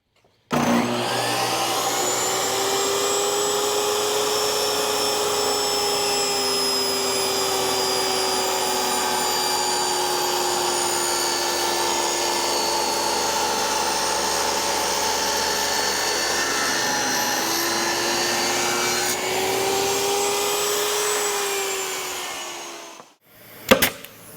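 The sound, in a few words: sanding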